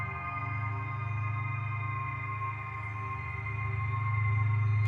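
A Digitakt 2 factory sample called Gong Gong Garden, pitched down an octave with a volume fade: a sustained, shimmering metallic gong-like tone with steady harmonic overtones and a low drone, holding evenly for about five seconds.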